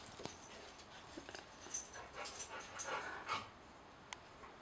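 A dog pants in quick, soft breaths with faint whimpers mixed in, fairly quiet and close, with light background noise.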